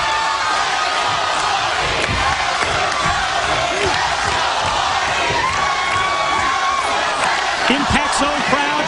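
Wrestling arena crowd in Orlando chanting back and forth, split between cheering for Jeff Hardy and for James Storm, a loud, dense, continuous roar with rhythmic chant bursts and a voice calling over it.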